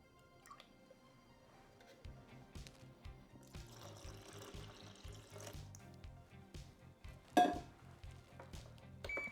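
Water is poured for sourdough bread dough in a quiet run of drips and small splashes, sparse at first and then denser, with one sharper splash near the end.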